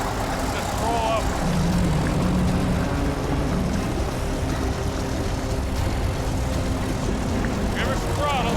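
A truck engine revs hard during a heavy tow recovery on a highway, a loud, continuous rumbling drone with people talking over it.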